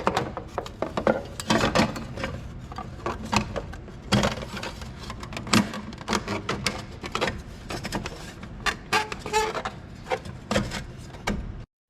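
A hose clamp is tightened on a headlight housing of an MK2 VR6, giving a run of close, uneven ratcheting clicks and scraping rubs with brief pauses between turns.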